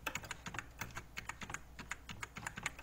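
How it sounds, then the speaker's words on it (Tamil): A password is typed on a computer keyboard as a quick, uneven run of soft, close key taps over a faint steady hum. "அந்த பாஸ்வேர்டை வந்து இதில் டைப் பண்ணணும்."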